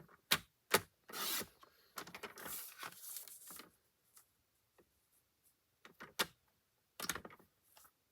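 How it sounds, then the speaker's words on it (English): Paper being trimmed for a handmade card, with sharp brief cuts and swishing slides of a trimmer blade in short bursts and then sparse soft taps, close and quiet with no talking. "Just going to trim off a little bit on each side."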